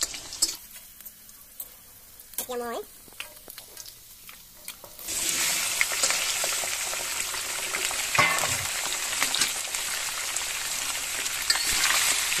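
Broiler chicken meat, including the legs, goes into a pan already frying potatoes. Quiet clinks and a scrape come first, then a loud, close, steady sizzle that continues to the end.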